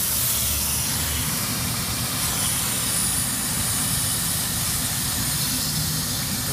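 Water spraying hard against a dirty condenser coil during a backwash cleaning, a steady broadband hiss and rush that runs unbroken and loud with no talking.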